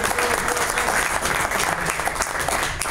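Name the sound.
applause for the members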